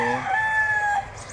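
A rooster crows loudly and close at a gamecock farm, with one long drawn-out call that tapers off, followed by faint farmyard background.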